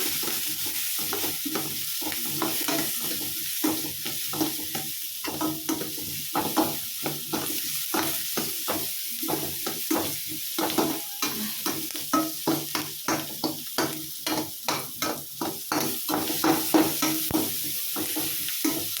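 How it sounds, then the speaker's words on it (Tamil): Onion, tomato and green chilli sauté in a pan with salt and turmeric, a continuous sizzle broken by rapid repeated scraping strokes of a spatula stirring the mixture, with no talking. "வெங்காயம், தக்காளி, பச்சை மிளகா சேர்த்து நம்ம நல்லா வதக்கிட்டு இருக்கோம்."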